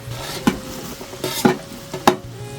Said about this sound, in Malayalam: ഇനി നമുക്ക് പച്ചമുളക് ഇട്ട് കൊടുക്കാം